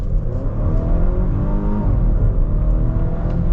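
A 2022 Volvo XC60 B6 R-Design pulls away and accelerates, its engine a loud, steady drone rising gradually in pitch from start to finish.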